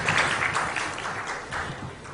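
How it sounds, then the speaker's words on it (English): Conference audience at an investors meet applauding, a steady wash of dense clapping that fills the whole moment, fairly loud and close, with no clear speech over it. "A round of applause for Mrs. Kalsi."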